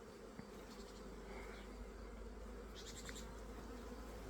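A constant, close swarm of honey bees buzzing at an apiary in a low drone, steady throughout with no voices.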